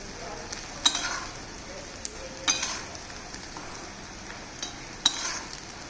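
Potatoes sizzle softly as they crisp in a pan over medium gas for bataka puva. Several clear clinks of a spoon stirring against the pan rise above the low frying hiss.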